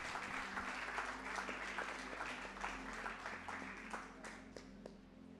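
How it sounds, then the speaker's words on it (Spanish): Congregation applause in a Spanish-language church service, a dense roll of many hands clapping that carries on steadily for several seconds and slowly thins toward the end. "Démosle un aplauso al Señor."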